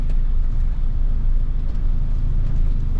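Tuned car engine held at a steady, smooth throttle, a loud continuous low rumble with no sharp revs, close and even throughout.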